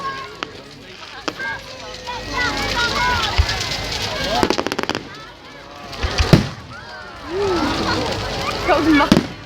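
Fireworks go off on bonfire night with several sharp bangs and crackling bursts, a couple of them loud, while people chatter nearby throughout.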